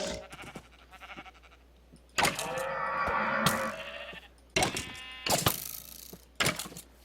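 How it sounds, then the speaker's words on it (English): Sheep bleating in Minecraft, several loud, close bleats in separate bursts with quiet gaps between them and no talk. "I was over just breeding some sheep"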